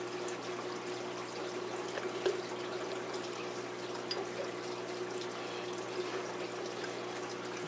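Bloodworms squirted into a fish tank with a crayfish and sculpin inside, giving a steady, soft watery trickle and hiss that runs the whole time at an even level.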